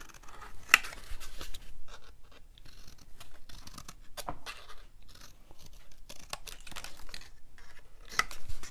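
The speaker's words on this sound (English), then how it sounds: "You can cut straight to the edge." Scissors cutting out a painted paper ornament: close, repeated crisp snips and paper rustles in an uneven rhythm, with a few sharper clicks standing out against quiet background.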